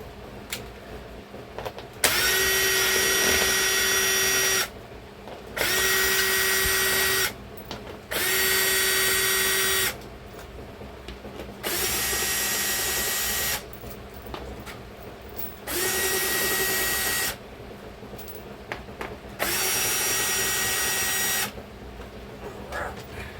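A power drill backs screws out of a boat seat being reupholstered, six loud whirring bursts of about two to three seconds each, separated by short pauses, close up with no talking.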